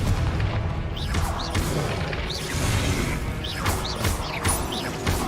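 Confringo fire spell blasts in the Hogwarts Legacy video game, a series of booming explosive bursts about once a second, each with a whooshing crackle, loud and close, continuing in rapid succession during combat.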